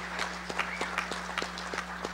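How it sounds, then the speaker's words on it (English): Applause from a convention audience at a general session, heard as fairly quiet, evenly spaced claps. "Let's all give another round of applause to all these posts."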